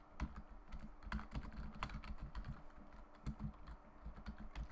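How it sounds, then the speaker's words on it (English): Steady computer keyboard typing, a rapid run of close, crisp key clicks with a few heavier strikes, continuing throughout with no talking. "Sorry if you can hear me typing."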